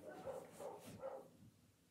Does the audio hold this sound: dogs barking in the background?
yes